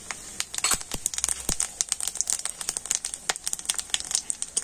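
Bay leaf, dried red chilli, whole cumin and whole garam masala crackle in hot oil, a close, busy run of sharp irregular pops and sputters with no voice over them.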